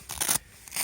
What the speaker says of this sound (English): undo the Velcro.